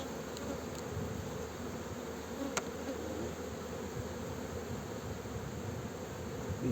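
Honeybees hum in a dense, continuous drone around an opened hive in Muğla, close and even throughout, with a faint tick or two over the buzz.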